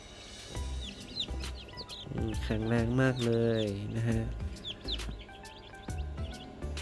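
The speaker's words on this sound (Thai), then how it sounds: "นี่น้องไก่เพิ่งเกิดมาวันแรกนะครับ" Day-old Autolop chicks in black and blue cheep in quick, high, scattered peeps close by, while someone talks briefly over them in the middle.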